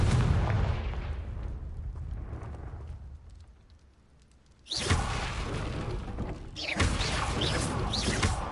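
Confringo explosive spell from the Hogwarts Legacy video game: a loud booming blast bursts in, then a second impact follows, after a fading rumble from an earlier explosion.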